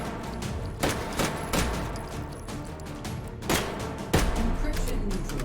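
Gunfire in the VR shooter H3VR, with irregular sharp shots of varying intensity scattered over a busy background of game noise, some louder bursts standing out near the end.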